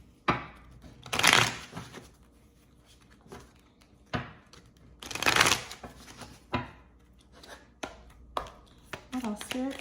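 A tarot card deck being shuffled by hand in two quick riffling bursts, close and crisp, with softer card handling and tapping between them.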